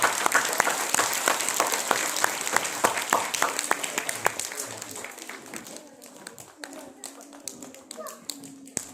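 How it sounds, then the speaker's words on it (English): An audience at a school storytelling festival claps, starting with a dense burst of applause that thins to scattered claps and fades out over several seconds; a voice and faint murmurs are heard in the background. "Give them a huge round of applause."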